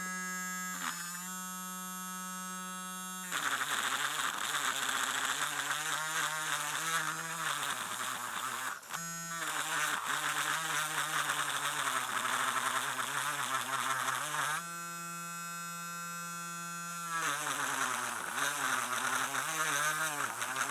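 A Harbor Freight handheld rotary tool runs with a loud, high-pitched whine that drops in pitch as it bogs down under load around 3 and 9 seconds, then recovers, vibrating steadily with no talk.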